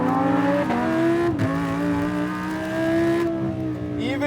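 Tuned Lamborghini Huracán LP580-2 with a 5.2-liter V10 screaming up toward 9,000 RPM, a loud close harmonic engine wail that rises, briefly drops at a shift, then climbs steadily again before easing off.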